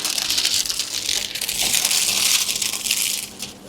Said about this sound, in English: try and get the backing off. Go ahead and peel